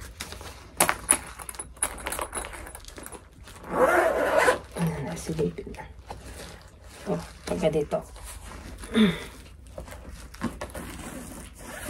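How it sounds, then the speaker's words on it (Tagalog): A zipper is worked on the carrying case of a steel tongue drum during an unboxing. Several close rasping zip pulls come in bursts, and a person speaks briefly between them. "Oh, meron pang zipper dito."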